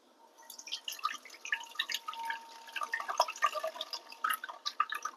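Chili liquid drips and trickles through a kitchen strainer as the pulp is pressed, a quiet, irregular patter of small wet drops at close range.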